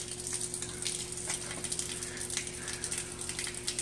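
Water drains from a hydrolocked twin-turbo Mustang engine in a steady, faint gushing trickle with a low hum beneath, no voices.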